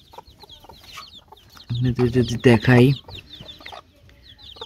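Desi chicken chicks in a dirty coop, some with red, blistered beaks, cluck and call in a loud burst of harmonic squawks mid-clip, with softer chirps before and after and a voice speaking briefly.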